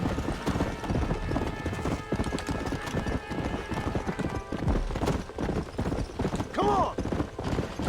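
Horse hooves clop in a fast galloping rhythm in the video game Red Dead Redemption, with a whinny near the end and someone briefly shouting over it.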